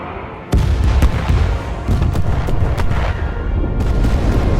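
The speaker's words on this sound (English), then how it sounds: "Load all torpedoes, fire." Torpedoes fire and explode in the Star Trek Resurgence game with a sudden loud boom followed by a dense rumbling barrage and sharp bursts, continuous and close.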